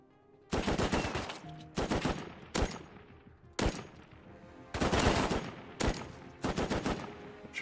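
Heavy HMLMG machine gun fire in the video game Rust, loud bursts of rapid automatic shots in seven separate strings, with short pauses between them.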